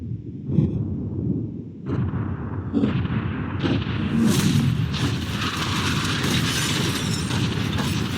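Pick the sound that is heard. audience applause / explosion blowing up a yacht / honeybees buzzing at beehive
explosion blowing up a yacht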